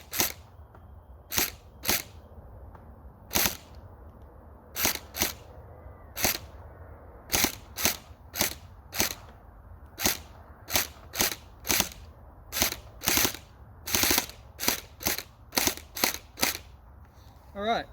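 A gel blaster fires a full magazine of hard Gladiators gel balls, roughly twenty sharp, close snapping shots in an uneven, rapid sequence with brief pauses between some of them.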